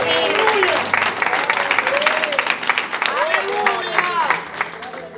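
A church congregation applauds, a dense wash of clapping running throughout while a voice speaks or sings loudly over it.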